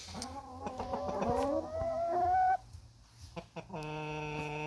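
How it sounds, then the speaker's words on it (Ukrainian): Chickens clucking nearby in short, pitched calls, with one drawn-out rising call and a sustained squawk near the end, no talking. "Ну і кури сюди знову прийшли."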